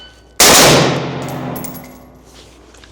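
A single sharp pistol report from a ready-up drill on a range rings out loud and near, its blast decaying over about two seconds; only one distinct shot shows.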